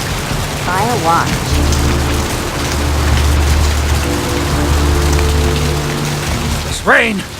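Steady rain hisses and patters throughout in the video game Vampire: The Masquerade - Bloodlines, with a low synthetic hum beneath and a couple of brief rising electronic chirps.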